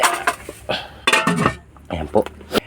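Food goes into a metal cooking pot with clanking and scraping of pot and utensils in short bursts, close by, while someone speaks.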